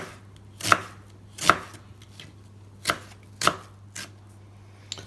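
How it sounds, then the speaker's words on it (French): A knife slices onions lengthwise into thin strips on a board while preparing lamb tagine, giving five crisp, close chops at uneven intervals with a low steady hum underneath and no talking. "Donc ces oignons, on va les émincer."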